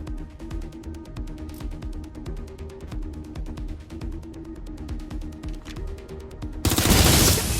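Rapid gunfire from the video game Watch Dogs: Legion, a sustained fusillade of shots over a steady game soundscape, ending in a loud burst of heavier blasts.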